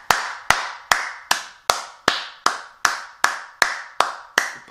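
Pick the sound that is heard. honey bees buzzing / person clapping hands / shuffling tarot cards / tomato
person clapping hands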